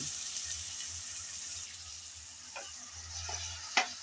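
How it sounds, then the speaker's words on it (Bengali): Soaked lentils added to hot oil with browned garlic, sizzling steadily while a utensil stirs them, giving a few soft scrapes and clicks, close and moderately quiet. "নেড়ে চেড়ে একটু তেলের মধ্যে ভালোভাবে ভেজে নেব।"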